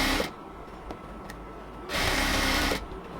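A sewing machine stitches elastic onto the waist of a baby palazzo in two short bursts: a brief whir at the start, then a longer close, steady run of about a second after a quiet pause.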